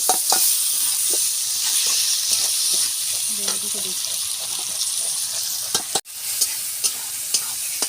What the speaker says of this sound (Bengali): টমেটো পেঁয়াজটা আমার ভাজা হয়ে গেছে।